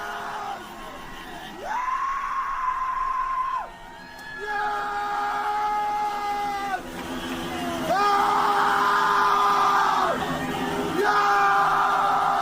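A crowd in Iran cheers and yells with long, sustained, loud voiced shouts that rise and fall in repeated swells, growing stronger toward the end.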